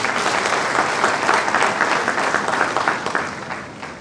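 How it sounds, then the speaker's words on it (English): Dense, steady applause from an audience at a university inaugural lecture, filling the whole stretch and easing slightly toward the end. "Let me give you another applause again."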